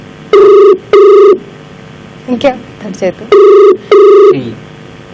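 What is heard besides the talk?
telephone ringing during an outgoing call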